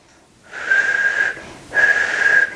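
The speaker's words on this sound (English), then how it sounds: "I have a little bit more trouble doing things like whistling" A person whistles two sustained steady notes through the lips after a lip flip, each held about a second with a short pause between, close and clear with breathy edges.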